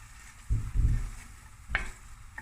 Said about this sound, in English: about a teaspoon of garlic, finely chopped. And we're going to stir this.